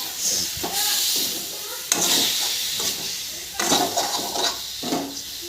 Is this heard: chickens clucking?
no